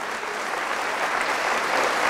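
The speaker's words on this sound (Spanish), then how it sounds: "Fuertes aplausos al Señor Jesús." A church congregation claps steadily and loudly throughout, a dense wash of applause with no pauses.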